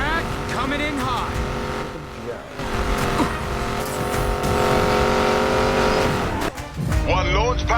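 Race car in the Need For Speed Payback video game accelerating at full throttle, a loud sustained engine roar rising in pitch through gear changes, with tire noise and a brief dip before revving again.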